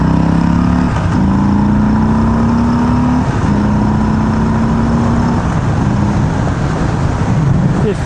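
A Harley-Davidson Street Bob pulls hard on the highway, its engine note climbing steadily through the gears, loud and close under heavy wind rush, with short breaks at the gear changes.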